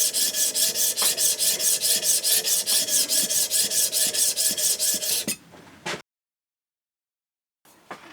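A steel hand plane blade is rubbed flat on an abrasive, its back deep with mill marks: quick, even back-and-forth rasping strokes close up for about five seconds, then a few scrapes and silence.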